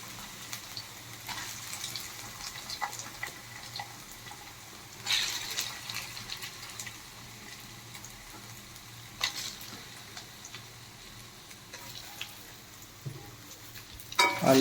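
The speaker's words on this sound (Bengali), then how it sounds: "আলুগুলো জাস্ট একটু ভেজে নিচ্ছি লাল লাল করে।" Potato pieces fry in hot oil in a wok with cumin and curry leaves, a steady close sizzle broken by occasional stirring scrapes and louder bursts, with no talking.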